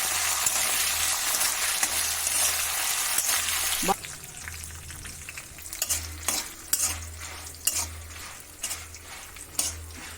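Coriander seeds and dried red chillies dry-roasting in a pan for a coriander chutney, heard as a rustling sizzle then clinking, scraping stirs with a low hum beneath, no voices.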